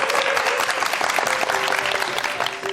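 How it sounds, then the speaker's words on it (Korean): Dense, steady audience applause in a lecture hall for the professor after a Korean special lecture on real estate, clapping throughout at close range with no speech. "우리 교수님께 다시 한번 박수 부탁드리겠습니다"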